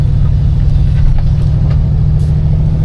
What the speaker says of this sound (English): This one sounds good. It's got that glass pack on the back.